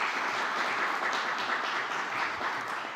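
An audience at a book presentation in a state congress applauds, giving a steady, dense wash of clapping from a crowd that holds evenly throughout.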